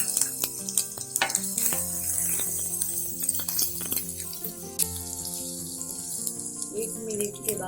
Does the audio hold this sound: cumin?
yes